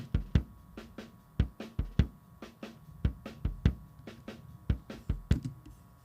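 A close-miked bass drum thumps in a busy rhythm, deep punchy kicks with some snare and cymbal bleed faintly behind, recreating a song's drum sound, no talking.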